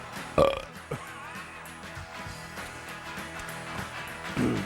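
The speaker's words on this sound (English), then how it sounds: "belching, vomiting." Two loud, throaty belches, one near the start and a second near the end, rise over a steady bed of background music.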